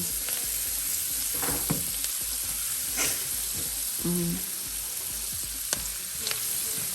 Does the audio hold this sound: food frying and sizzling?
yes